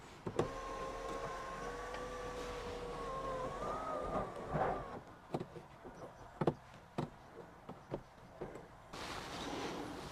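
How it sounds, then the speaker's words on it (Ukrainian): Electric sunshade blind of a 2019 Skoda Superb 2.0 diesel running with a soft motor whine for about four seconds, followed by a series of sharp clicks and knocks inside the cabin. "Так, шторка теж працює."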